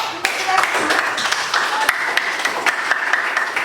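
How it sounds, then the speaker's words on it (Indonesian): Students in a high school history class give a round of applause, scattered hand claps with sharp individual strikes standing out over a moderate, uneven clatter, with some voices mixed in. "Oke, tepuk tangan."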